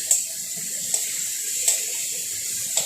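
Chickpea cooking water is poured into a pan of chicken, potato and chana masala curry, giving a steady soft watery hiss with a few light splashes, close by.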